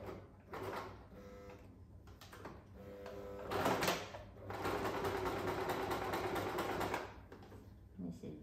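A sewing machine stitches a fabric bunny handbag pouch in bursts of whirring, with short pauses between runs and a longer steady stretch near the end, close and moderately loud.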